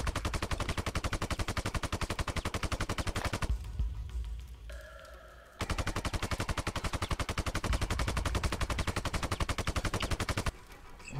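Rapid enemy automatic gunfire in the shooter Sniper Ghost Warrior 2, loud and dense bursts running nearly the whole time, broken by a short quieter gap with a faint ringing tone before the firing resumes.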